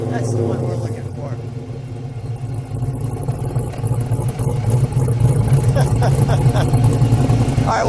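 A 1968 Chevrolet Camaro with an LS3 V8 idles with a deep steady rumble close by, then swells louder as the engine is revved, while people talk over it.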